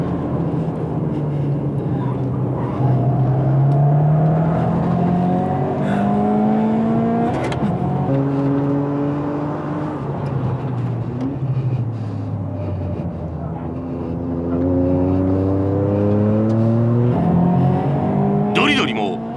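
A Toyota GR Yaris races in an AWD battle at Tsukuba circuit with other cars, engines rising and dropping in repeated rev sweeps through gear changes and corners, loud throughout while people talk over it.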